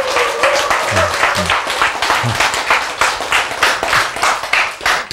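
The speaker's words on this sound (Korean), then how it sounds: "박수를 치자!" Lively hand clapping from an audience in an auditorium lecture, a dense rhythmic burst of many hands close and loud throughout, with a brief voice calling out near the start.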